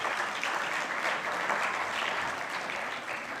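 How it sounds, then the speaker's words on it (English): Audience applause at a sustainable development conference CEO forum, a dense, steady clapping from a full room lasting several seconds and tapering slightly at the end. "Can we have a round of applause, please?"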